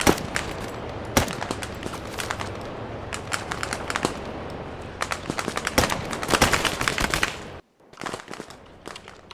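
Gunfire from the video game SOCOM Operation Iron Justice: loud, rapid bursts of shots and sharp cracks rattle almost continuously, then break off for a brief moment of near silence before a few more shots near the end.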